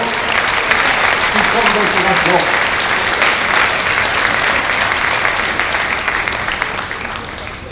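At a mayor's 2024 New Year greetings ceremony, the audience applauds the sub-prefect with loud, dense, sustained clapping that slowly eases off, with a voice briefly audible near the start.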